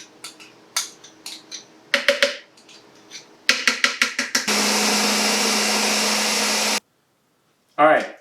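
Short clattering bursts and chops lead into a steady, loud motor whir of a blender blending salsa verde with jalapeños and cilantro, running for a few seconds, then cutting off.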